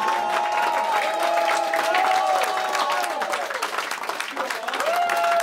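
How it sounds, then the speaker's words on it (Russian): A theatre audience at a rock and roll concert applauds steadily, a dense wash of clapping with some cheering voices mixed in, while a bright tone slides and sustains above the crowd. "Аплодисменты Артему!"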